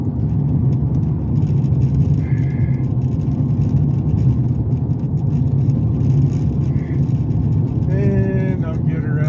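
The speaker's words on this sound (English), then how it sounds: "There's a lot of road noise." Steady, loud low rumble and roar of road noise inside a moving vehicle on a rough road, continuous throughout with slight bumps and a faint higher whine near the end.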